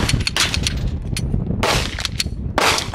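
Gunshots fired at an outdoor shooting range, a rapid irregular string of loud, close sharp cracks spread across a few seconds with brief gaps between bursts and no talking.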